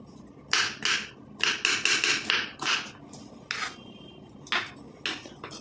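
Beetroot being chopped into small pieces on a board produces a quick series of close, crisp knife cuts in short bursts separated by brief pauses, with no talking.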